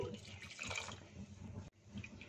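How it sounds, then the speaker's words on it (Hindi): Milk poured into a pot of pumpkin kheer simmering on low heat, a soft, faint liquid gurgle and splash lasting a couple of seconds with a brief break near the end. "इसके साथ इसमें पहले आधा किलो दूध डालेंगे"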